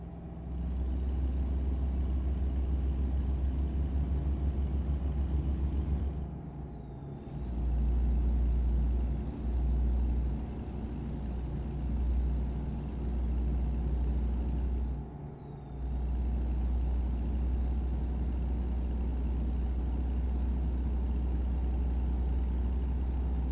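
A truck engine droning steadily while driving, a loud low rumble that dips briefly twice, with no talking.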